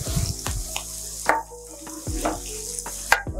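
Boiled potatoes being stirred and pressed into a spiced masala in a hot pan for street-style bread pakora filling, with a soft continuous sizzle broken by repeated scraping and knocking strokes of the spoon, close and fairly loud.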